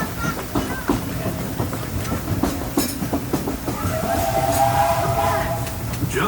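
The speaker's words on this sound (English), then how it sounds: "please remain seated until the train comes to a complete stop" The Disneyland Railroad train rolls along its rails in the rain, a loud, steady rumble with rhythmic clacking of wheels and a brief whistle-like tone near the end.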